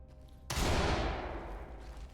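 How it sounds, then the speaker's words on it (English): A flashbang grenade detonates in the tactical shooter Ready or Not during a home invasion mission, a sudden loud blast followed by a long decaying roar that fades over about a second and a half. "Open and flashbang."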